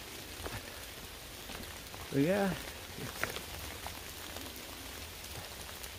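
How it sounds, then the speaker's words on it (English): Steady rain falls on a forest trail in Pennsylvania, with heavy drops spattering off the trees in a constant close patter; someone speaks briefly over it. "just a steady rain and heavy drops coming off the trees."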